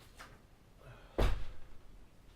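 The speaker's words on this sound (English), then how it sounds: "just tried to close the door, it didn't work." A door is pushed shut with a single solid thud and brief rattle partway through, preceded by a few faint knocks in a quiet room, with no voices.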